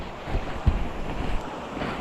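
Strong wind buffets the microphone beside big sea waves out in open water, a rough continuous roar with low thumps and gusts, close and loud, no talking.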